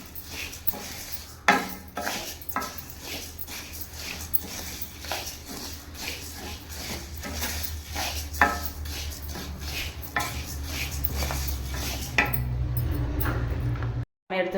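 Roasted dal being scooped and moved into another bowl, with repeated spoon scrapes and clinks against metal cookware over a low steady hiss, ending abruptly.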